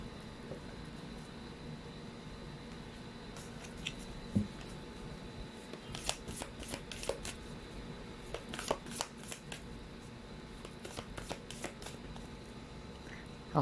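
Tarot cards are riffled and handled up close, soft shuffling at first, then a run of crisp, quick flutters and snaps in short bursts, alone against a quiet, faint room hum.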